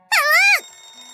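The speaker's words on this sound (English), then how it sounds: "It's the phone." Telephone ringtone from the Maitetsu video game, a single bright, rising-and-falling electronic chime lasting about half a second, loud and close, then a faint lingering hum.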